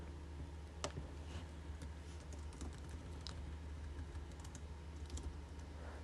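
Code being typed on a computer keyboard, a steady run of quick, soft key clicks at close range with no voices.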